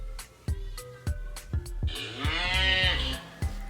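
A cartoon cow moos from a children's alphabet learning app, one long drawn-out low call rising in the middle of a series of short sharp taps and clicks, fairly close and clear with no talking over it.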